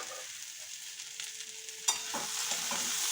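Mixed vegetables with potato cubes fry in a pan after a splash of water. There is a soft, steady sizzle, then a clatter as a utensil starts stirring and scraping through them, continuing to the end.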